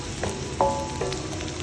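Chicken noodles frying in a pan while being stirred, a steady close sizzle with a few light clinks of a utensil against the pan.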